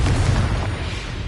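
A Confringo fire spell explodes in the video game Hogwarts Legacy, a loud, sustained booming blast with a heavy low rumble filling the whole moment.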